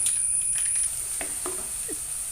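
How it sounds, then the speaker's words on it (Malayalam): Gentle sizzling of fish head curry frying in coconut oil as it is stirred, with small scraping and clinking taps of the spoon in the pan over a steady high hiss. "അപ്പോൾ നമുക്കത് വരെ ഒന്ന് ഇളക്കി കൊടുക്കാം."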